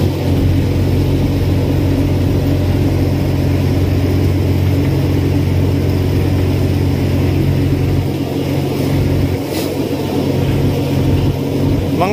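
A fishing boat's 4DR5 diesel engine running at sea on a Pacific Ocean tuna trip, a loud, steady close-up drone with a constant low throb that barely changes from start to finish.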